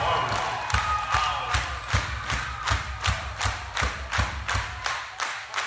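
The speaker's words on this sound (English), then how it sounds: "Let me get you guys clapping with me." A live concert crowd in Arizona claps along in a steady, even rhythm, with sharp, loud hand claps landing about twice a second over a low musical hum.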